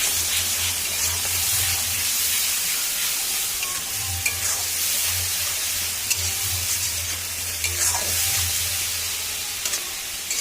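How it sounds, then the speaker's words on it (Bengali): Onion fries in a pan with ginger, cumin, garlic, dried and green chillies, radhuni and a little fennel, giving a loud, steady sizzle and hiss with occasional stirring scrapes. "পেঁয়াজটা ভালো করে এবার ভেজে নেব এবার দিচ্ছি এর মধ্যে মশলা"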